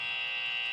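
A game show buzzer sounds as one steady, continuous electronic tone, loud and sustained for under a second with nothing else heard.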